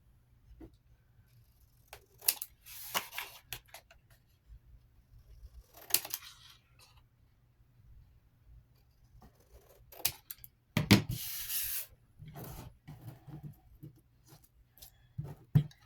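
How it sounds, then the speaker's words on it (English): Scissors snip at the corners of paper pages for a handmade photo book, making a series of sharp, close cutting clicks in irregular bursts separated by quiet pauses, with a few louder rustles of paper. "I'm also going to go here and cut my corners to where they are cut close"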